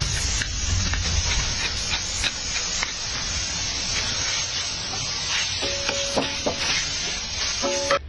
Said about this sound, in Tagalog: ginisa na natin ang ating taba ng baka